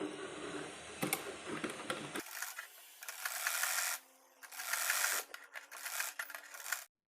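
A home sewing machine runs a straight stitch on a baby's jhabla dress collar, a fast mechanical rattling in several bursts separated by short pauses, close and fairly loud.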